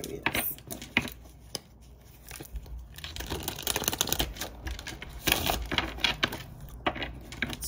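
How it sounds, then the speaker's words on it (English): Tarot cards are shuffled by hand, a run of quick riffling, flicking and slapping bursts in an uneven rhythm, close and fairly quiet, with no talk. "Two more shuffles for my Aquarius."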